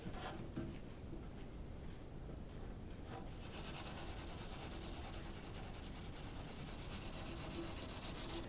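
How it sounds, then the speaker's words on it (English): Wet sanding of a classic Blackhawk tool chest with 2000 grit paper gives a continuous close scrubbing rasp, rhythmic back-and-forth strokes at steady volume throughout, with no voices. "do the wet sanding with the 2000 grit"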